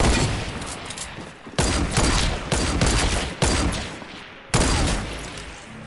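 Gunfire in the Fortnite video game played on PS4 Pro, a loud sustained barrage of shots with several sharp heavy blasts punctuating continuous rattling fire, no voices.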